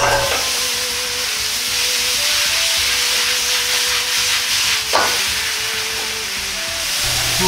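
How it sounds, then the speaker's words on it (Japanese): Bok choy leaves stir-fry in a hot pan, with a loud steady sizzle and hiss throughout, close and constant. A sharp clatter from the pan comes partway through. "火がしんなりしてきたら葉も入れ炒めます。"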